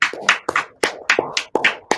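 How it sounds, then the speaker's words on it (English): Applause for a singer named Donna at an Irish gathering in Southern California, heard as uneven bursts of clapping from a small group, fairly close, with short pauses between bunches of claps. "can we just give Donna a round of applause?"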